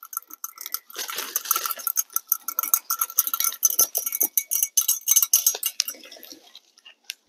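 Granular fertilizer sprinkled by hand around the base of a mature fruit tree: a dense, irregular patter of small pellets clicking and rattling, close and crisp, continuing steadily for several seconds with no talking.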